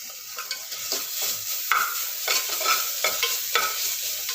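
Ginger garlic paste fries in a pan for chicken curry with a steady bright sizzle, while repeated scraping strokes of a spoon stir it in a loose rhythm, close and clear with no talking.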